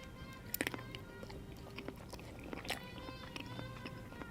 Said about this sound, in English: That shrimp is so nice and crunchy.